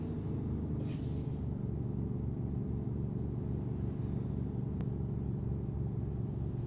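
A heavy truck in American Truck Simulator on Alaska's Dalton and Elliot Highway, its diesel engine droning in a steady, loud low rumble throughout, with a brief hiss near the start and a faint click later.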